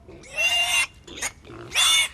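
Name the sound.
pig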